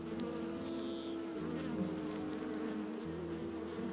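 Honeybees cluster around a returning scout bee, their close, faint, continuous buzzing holding steady with slight shifts in pitch.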